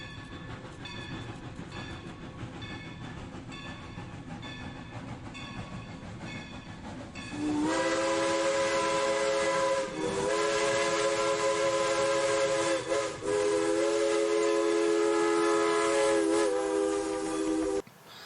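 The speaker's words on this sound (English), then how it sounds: "the silence is broken by the powerful whistle of the locomotive" A steam locomotive whistle suddenly sounds after a stretch of rumbling rail noise, loud and sustained for about ten seconds with a rich chord-like tone, briefly dipping once before continuing and then cutting off.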